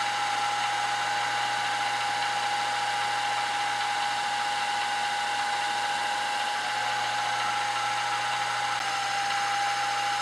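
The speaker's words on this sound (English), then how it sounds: "Center drill it." Metal is center drilled on a lathe while machining a PM Research #3 cylinder, giving a steady, continuous motor whine with a thin high cutting tone, close and unbroken, with no talk.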